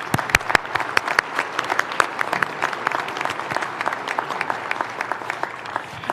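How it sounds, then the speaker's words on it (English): A civic event audience applauds award winners for keeping Riverside beautiful, with a steady crowd of hand claps and sharp, close individual claps throughout. "Let's give our winners one more round of applause."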